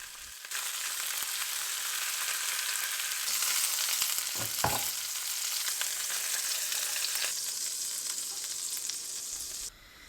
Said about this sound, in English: I seared all sides of the lamb shoulder pieces until nicely browned.